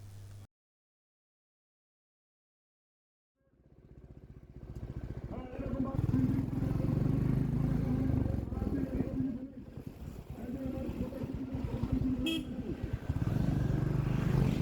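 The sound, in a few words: motorcycle riding on highway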